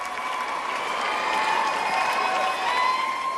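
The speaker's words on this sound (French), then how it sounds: "Le public est debout et applaudit à tout rompre." Music awards audience on its feet applauding and cheering, a continuous wash of clapping with shouts mixed in and some tonal voices rising over the crowd.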